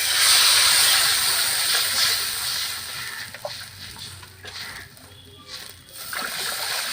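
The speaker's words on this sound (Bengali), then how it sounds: "দেখুন এই তেলের মধ্যে আমি দিচ্ছি এবারে জল" Water is poured into hot oil left from lightly frying potatoes for a mutton curry, giving a loud hissing, steaming sizzle with splashing that slowly settles and fades.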